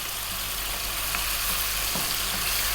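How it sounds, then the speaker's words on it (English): Canned tomatoes being broken down with a spoon in a hot pan give a steady, loud sizzle with faint low scrapes, continuous and without any talking. "with a spoon, we're going to break them down"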